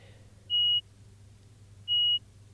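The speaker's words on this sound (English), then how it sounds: "it will play this door sound" A rail simulator's door warning sounds as two identical high electronic beeps while the button is held, each lasting about a quarter second and spaced over a second apart, clear and alone above a low steady hum.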